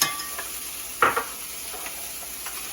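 Onions go into a hot pot of seared meat for a Guinness stew, giving a soft steady sizzle with a few scraping stirs and light clinks of a utensil against the pot, fairly quiet.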